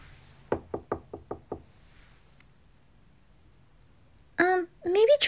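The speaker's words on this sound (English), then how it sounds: "Shut up and knock." Five sharp knocks on a door in a quick, evenly spaced series at a Halloween trick-or-treat doorstep, followed after a pause by people talking.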